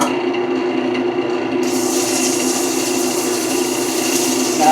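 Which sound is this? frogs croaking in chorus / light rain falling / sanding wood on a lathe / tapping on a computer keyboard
sanding wood on a lathe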